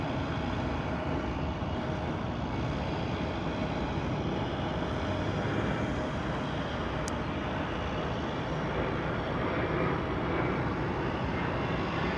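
A fixed-wing airplane at DFW Airport roars steadily and loudly for the whole stretch, a broad sustained engine rumble with no talk over it.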